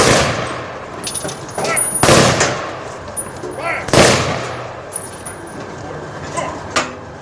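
Ceremonial rifle volley by an honor guard at a county veterans honors event outdoors: two loud, sharp crack bursts about two seconds apart, each with a ringing tail, over a faint background of crowd ambience.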